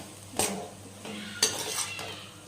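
Rice for tomato rice is stirred in a cooking pot, bringing a few scraping clinks of a spoon against metal over a faint background sizzle, with no speech.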